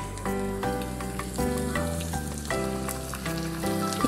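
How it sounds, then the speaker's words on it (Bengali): Two tablespoons of onion paste sizzle in a hot pan with a steady crackling hiss, broken by repeated rhythmic scraping strokes as it is stirred, close and fairly quiet with no talk. "2 টেবিল চামচ পরিমাণ পেঁয়াজ বাটাটা দিয়ে দিচ্ছি। একটু নেড়ে নিচ্ছি।"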